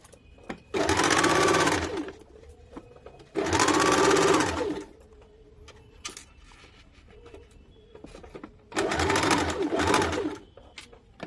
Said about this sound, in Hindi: सिलाई कर देंगे